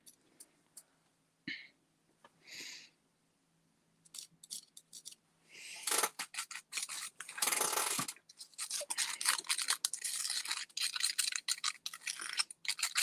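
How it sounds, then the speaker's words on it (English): Scraping and mixing cloisonné enamel colours for a koi fish kit: faint isolated scratches at first, then dense, close, gritty rasping strokes continuing in irregular bursts. "I'm sure all of this scraping and mixing sounds quite grim on the microphone"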